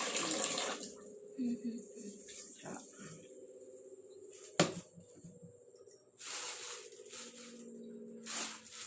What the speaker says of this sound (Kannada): ನೀರು ಹಾಕ್ಬಿಟ್ಟು ಸೊಪ್ಪನ್ನ ತೊಳಿಬೇಕು.